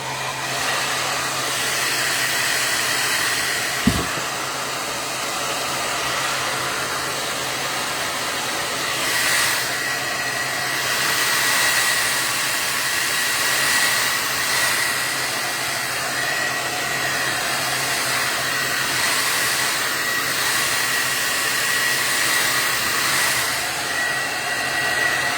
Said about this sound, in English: now I'm going to hit it with my hairdryer